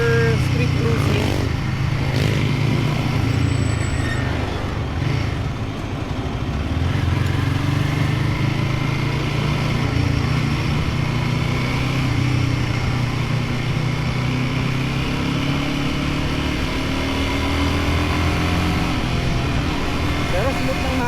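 A Royal Enfield Guerrilla 450 single-cylinder motorcycle is ridden on the street, its engine giving a steady, continuous drone mixed with road and wind rumble that carries on without a break.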